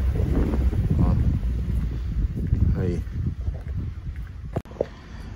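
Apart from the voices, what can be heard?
wind blowing into the microphone outdoors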